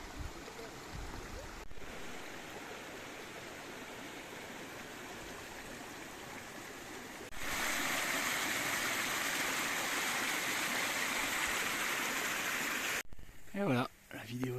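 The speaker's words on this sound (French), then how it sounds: "Ce modeste ruisseau qui va devenir un fleuve" A small mountain stream at the source of the Dordogne near Puy de Sancy rushes and burbles steadily, growing louder and closer partway through before cutting off abruptly near the end.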